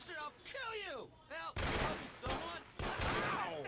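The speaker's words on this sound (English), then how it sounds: "I heard two guns." Gunshots in the Mafia video game: a few sharp, loud shots crack out in quick succession over the middle of the moment, with a person talking before and between them.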